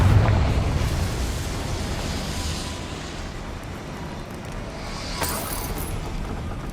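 A Confringo fire spell explodes in Hogwarts Legacy, a loud rumbling blast that fades into a sustained low roar, with a brighter crackling burst near the end.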